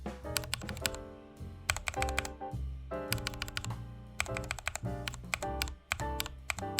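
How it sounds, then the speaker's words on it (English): Rapid typing on a mechanical keyboard fitted with stock Gateron Yellow and RK Red linear switches, a close, dense patter of clacky keystrokes in uneven bursts with short pauses, heard alone. "a quick sound test between the stock Gateron yellows and the stock RK red linear"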